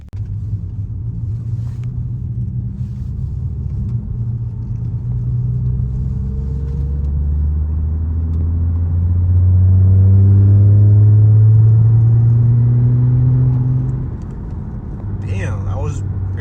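A supercharged Audi car drives along with a deep engine drone inside the cabin. The engine climbs slowly in pitch as it accelerates without shifting, then drops back as it eases off.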